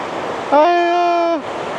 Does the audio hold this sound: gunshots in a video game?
no